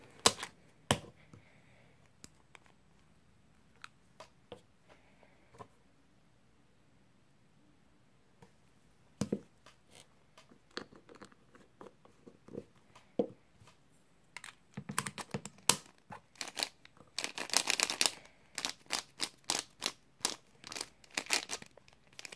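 A speed cube puzzle lubed with DNM-37 is turned over and over to break it in, making rapid clicky, crinkly snaps that start sparse and then build into dense bursts of fast turning, close and fairly quiet.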